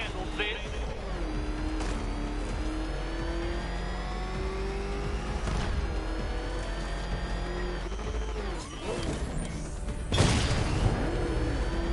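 A car engine in a video game pursuit keeps up a steady, droning roar with rising and falling revs throughout, under a voice talking. A sharp loud burst comes near the end.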